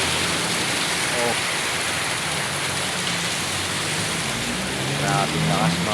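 Heavy rain pours steadily in a dense, continuous wash, with faint voices talking underneath for parts of the stretch.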